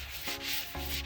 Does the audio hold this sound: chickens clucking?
no